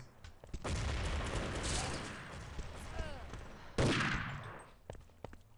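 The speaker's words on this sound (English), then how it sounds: "Two nades, 2 dead Germans." Grenade explosions in a video game match, two loud blasts several seconds apart, each a sharp broadband burst that rolls off into lingering rumble amid continuous battle noise.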